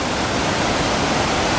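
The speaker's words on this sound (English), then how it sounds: "There's one of the hot springs coming out of the cliffside." Hot spring water pours steadily out of a cliffside, a loud, unbroken rushing hiss with no pauses.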